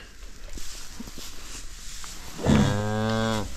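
A cow on a farm where a newborn bull calf has just arrived lets out one long, loud, close moo near the end, after a quieter stretch of shuffling and low farmyard noise.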